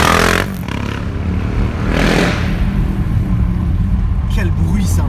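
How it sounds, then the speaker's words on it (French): A KTM motorcycle engine revving loud and close, a harsh, dry roar with a dip and swell, as a car passes nearby and people talk over it. "Le bruit KTM, il est sec."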